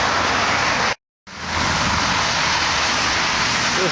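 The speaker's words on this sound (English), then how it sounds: "the sound of traffic" Steady street traffic in Saarbrücken, Germany, on a sunny day beside a river, a continuous broadband wash of passing cars that cuts out briefly near one second, then resumes, fairly loud and without talk.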